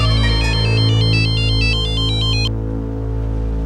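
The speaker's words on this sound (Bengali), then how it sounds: "তোর মোনা ডার্লিংকে ফোন কর" A phone ringtone plays a bright, repeating electronic melody of short, evenly spaced tones for about two and a half seconds over a low background hum, then cuts off abruptly, leaving only the hum.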